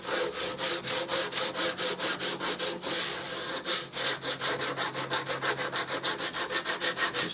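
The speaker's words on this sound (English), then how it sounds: "This 50 grit is so aggressive though, you can actually shape with it. Which is what I'm doing now." Coarse 50 grit sandpaper on a block rasps against a wooden Remington 788 gun stock being shaped, in steady back-and-forth strokes with a brief pause midway, close and fairly loud with no talking.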